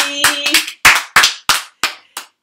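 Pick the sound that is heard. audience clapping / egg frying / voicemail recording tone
audience clapping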